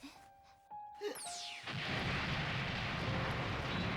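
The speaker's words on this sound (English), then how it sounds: "See how big this explosion was?" Explosion in the Gundam SEED movie: a few sharp tones and a falling whistle give way to a loud, sustained roaring blast that fills the rest of the moment.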